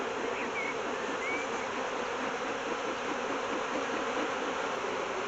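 Honeybees hum steadily in a crowded hive during a beekeeping inspection, a dense, continuous close-up drone that never lets up across the whole stretch, with no voices.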